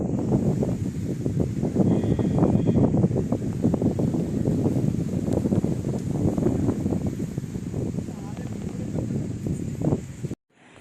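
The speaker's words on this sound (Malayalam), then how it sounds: "നല്ല കാറ്റ്." Strong wind roars and buffets steadily against the microphone for about ten seconds before cutting off abruptly.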